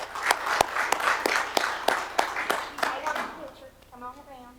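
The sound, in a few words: round of applause at a meeting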